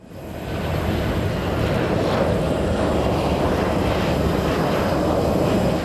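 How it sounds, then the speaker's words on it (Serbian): An AJet passenger airplane landing at Tuzla International Airport produces a steady, broad engine roar that swells in after a quiet start and then holds constant and fairly loud. "Na pistu Međunarodnog aerodroma Tuzla danas je sletio prvi avion Adjeta."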